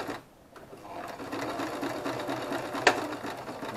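A sewing machine runs steadily up close, back-stitching through ripstop fabric for a hammock build, its motor whirring continuously after a brief quiet start, with one sharp click partway through and no voices.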